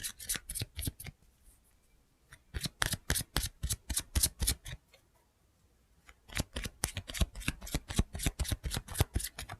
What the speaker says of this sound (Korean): 좀 다른 종류의 카드도 조금 뽑아보려고 합니다.